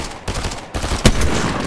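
Gunfire in an online shooter where a sniper rifle is being aimed, with several loud, sharp, rapid bursts of shots packed into under two seconds, close and without talk.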